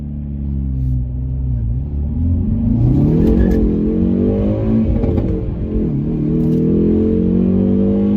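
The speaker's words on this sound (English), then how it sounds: "I'm gonna do a little bit of acceleration here." A 2020 Hyundai Veloster N accelerating from a stoplight, heard from inside: a loud, close engine drone rising in pitch through the revs, dipping briefly at a gear change, then climbing again.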